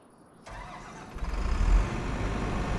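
In Farming Simulator 25, a blacked-out New Holland CR11 combine harvester's engine cranks and catches, a low rumbling start that swells into a deep, steady idle, close and moderately loud.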